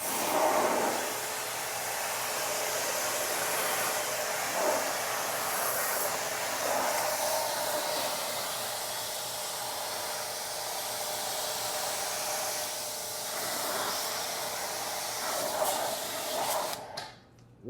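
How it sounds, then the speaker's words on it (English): A pressure washer nozzle sprays a car during detailing, starting at the top: a continuous loud, hissing spray that runs steadily for many seconds with small shifts as the nozzle moves, and no talk. "And then we just get our pressure washer nozzle,"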